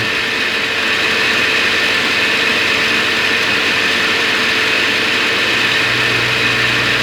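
A small 7 horsepower engine drives a water pump, pushing water into a pond. It runs at a steady, loud, unbroken drone for the whole stretch, with no voices.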